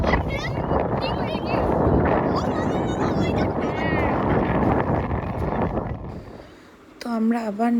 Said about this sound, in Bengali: তো আমরা আবার নৌকায় উঠে পড়েছি।